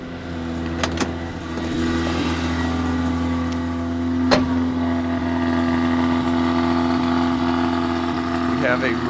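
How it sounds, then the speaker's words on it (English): A Mazda RX-7 FB rotary engine runs steadily after a smoky start, its droning idle carrying throughout with a few sharp clicks and knocks, while people talk over it. "We have a running Mazda."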